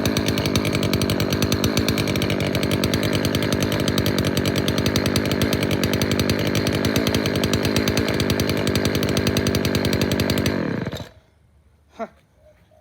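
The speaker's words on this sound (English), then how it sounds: "Oh dear, this one. The loudest trimmer." A loud gas string trimmer roars after a cold start, its two-stroke engine buzzing harshly and steadily at high revs for about ten seconds before cutting off abruptly, leaving near silence and a single faint knock.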